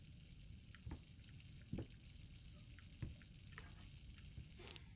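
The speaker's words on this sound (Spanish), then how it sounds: "es solo un grifo, es solo un grifo." A tap runs in a bathroom in the horror video game Layers of Fear, a faint, steady trickle of water broken by a few soft, louder drips and splashes, with no one speaking.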